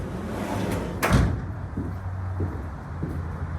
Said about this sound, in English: cab access door. Easy getting in and inside the vehicle.